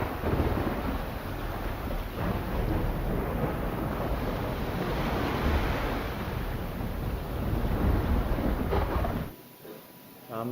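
Rough sea surges under Cyclone Biparjoy on the Gujarat coast near Dwarka, a continuous loud roar of crashing waves and wind that holds steady for about nine seconds before dropping off abruptly.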